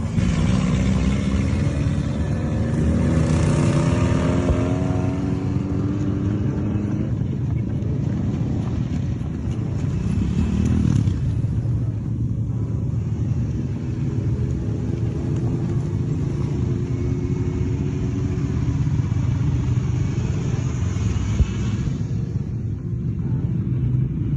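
Motorcycles and jeeps rolling into the city of Pokrovsk give a steady, loud engine rumble that holds for the whole stretch, with a few passing swells and no clear speech.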